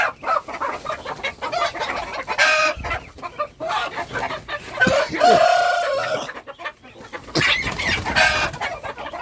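Native chickens cluck and crow close by in a farmyard, with repeated loud crows and busy clucking overlapping amid faint background voices.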